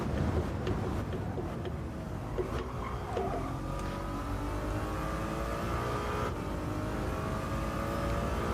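A Ferrari race car engine in Gran Turismo 7 revs and accelerates through the gears with rising and falling whine. The sound stays close and continuous throughout.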